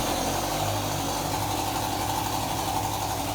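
Junkyard Dodge 2.2L turbo engine running on a stand, a steady close rumbling idle with a pulsing low throb that smooths out after the first second.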